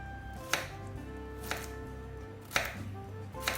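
A knife chopping eggplant and zucchini on a board, four distinct cuts spaced about a second apart, each a sharp knock, over faint background hum.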